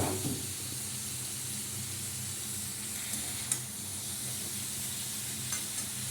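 Curry sizzles steadily in a hot pan while being sautéed, a soft continuous frying hiss with a few faint stirring clicks, alone without talk.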